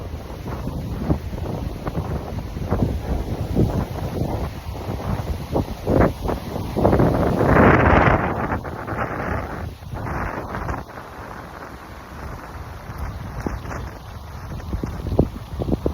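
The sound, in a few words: wind blowing outdoors into the microphone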